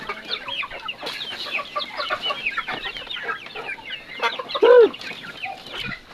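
Chickens on a poultry farm raising heritage birds cluck and chatter continuously, with many overlapping calls close by and one louder squawk standing out near the end.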